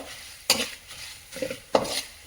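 Spoon scraping through a spiced jowar poha mix with dried chillies and chilli powder frying in a pan, three distinct stirring strokes over a faint steady sizzle.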